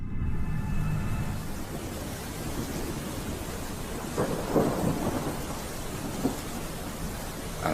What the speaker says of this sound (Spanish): la población es sorprendida por una lluvia torrencial que cae incluso con granizo